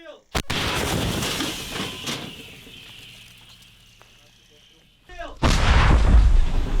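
Two heavy blasts from a 2S1 self-propelled howitzer, one at the start and another near the end, each a sharp boom followed by a long rumbling roar and echo outdoors.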